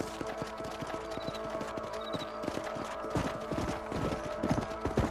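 Horse hooves clip-clopping in the video game Red Dead Redemption, a steady, even rhythm of hoofbeats on a ranch with background music, moderately loud and continuous.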